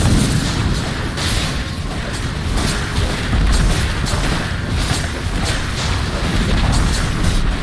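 Dota 2 middle tower crumbling under attack, a dense rumbling crash of battle impacts and debris, loud and continuous amid ongoing game effects and music.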